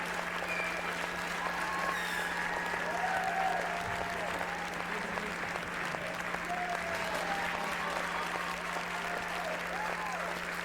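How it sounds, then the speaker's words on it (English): Continuous applause from a crowd, steady and moderately distant, sustained throughout without any pause. "Now people cannot hold back their applause."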